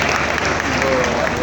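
An audience at an annual program event bursts into dense, continuous clapping, a loud, close wash of many hands with no pauses throughout.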